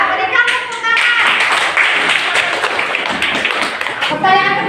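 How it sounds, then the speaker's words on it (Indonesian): Children in a science class on the solar system clap their hands together, a quick burst of close, sharp slaps that fills several seconds before tapering off. "Ya, berikan tepuk tangan."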